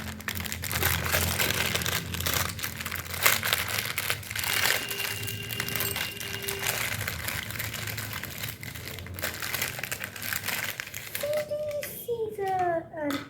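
Plastic packaging of a DIY jewellery bead kit for kids being opened up close, steady crinkling and rustling throughout with brief squeaky scrapes near the end, while someone talks over it.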